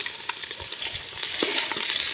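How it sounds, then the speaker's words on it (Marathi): Chopped onion sizzling in hot oil in a pot over an outdoor wood-fired stove while being slowly stirred, a close, steady crackle with soft scraping knocks throughout. "तेल तापलं आहे त्यात टाकला आहे कांदा आता फोडणीला हां फोडणीला कांदा टाकला आहे आता तो कांदा हलवणार आहेत हळूहळू"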